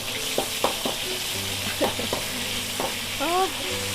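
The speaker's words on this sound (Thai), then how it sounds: "เดี๋ยวเราจะเจียวกระเทียมก่อนค่ะ" Garlic sizzles steadily in hot oil in a pan, a close, continuous frying hiss broken by a few sharp utensil scrapes and stirring clicks, with no talking.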